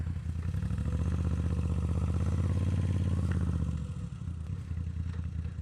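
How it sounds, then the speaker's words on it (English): A Moto Guzzi V7iii motorcycle rides along a road in Malibu, its engine a close, steady throbbing drone that eases off near the end, with wind noise and no talking. "So we're riding the Moto Guzzi V7iii in Malibu"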